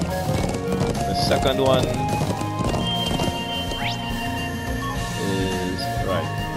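Horse hooves clip-clop in the video game Trails of Cold Steel, a steady trotting rhythm beneath background music, game effects and talking voices.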